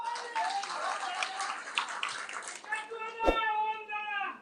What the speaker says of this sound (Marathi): मग का टाळी वाजवताय?